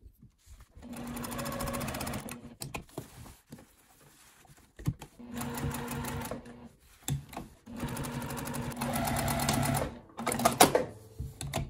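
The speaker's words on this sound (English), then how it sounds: "First I will be stitching around the hole." An electric sewing machine stitches a fabric patch around a hole in jeans, its fast whirring hum running in several close bursts separated by short pauses.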